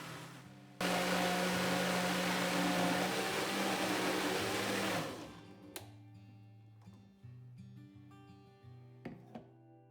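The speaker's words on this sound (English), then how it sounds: "Blend away." A blender whirs loudly while pureeing cilantro pesto, a dense steady roar that runs for about four and a half seconds, then cuts off, leaving soft background music and a few light clicks.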